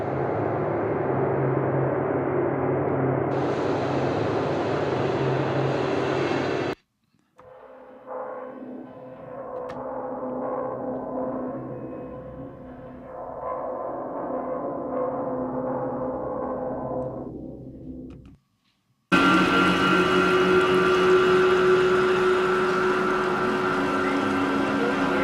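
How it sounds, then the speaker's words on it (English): Spacey ambient drone presets from the Oscillarys Spectral Loom plugin play in three sustained, evolving sections separated by brief silences, with dense, washing tones and no talking. "This could be used to just create some spacey, weird ambient sound as you bring in other drones of sound."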